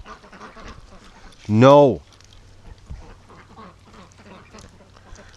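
A duck in a farmyard where ducks are bred gives one loud, close, nasal quack among quieter background quacks and rustling, while a person speaks briefly.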